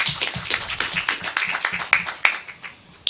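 An audience at a children's services event claps in a quick, uneven burst of close, sharp claps that thins out toward the end.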